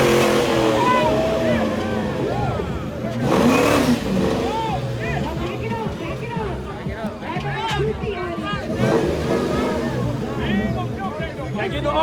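A Ford Mustang engine revs at a car show, a loud, close, rough throttle-blipping roar that rises and falls while people talk and shout over it.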